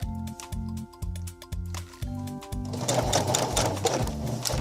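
A sewing machine stitches a side seam on a formal dress's lace bodice, starting in short rhythmic bursts, then running faster in one continuous close, steady stitching run.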